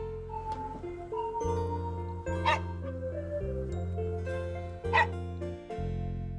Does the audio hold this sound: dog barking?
yes